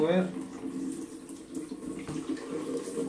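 Water gushes steadily from a newly installed shower, a continuous close splashing rush with a voice talking over it.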